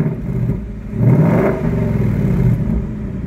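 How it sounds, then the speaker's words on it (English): A Ford Mustang Bullitt engine revved once, a deep rumble swelling to a louder peak then settling back to a steady idle, close by with no talk. "All right, go ahead and rev it again."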